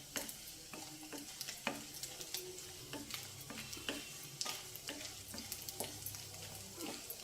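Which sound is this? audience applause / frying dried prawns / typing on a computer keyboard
frying dried prawns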